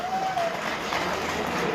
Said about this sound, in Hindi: एक बार उनके सम्मान में ताली बजाएं।